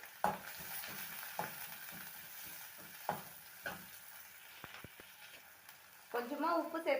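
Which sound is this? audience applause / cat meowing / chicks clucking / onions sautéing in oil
onions sautéing in oil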